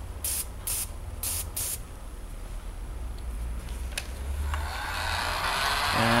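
Badger 250 airbrush spraying a mist of color onto a print, short hissing bursts at first, then a quieter steady hiss that builds louder toward the end.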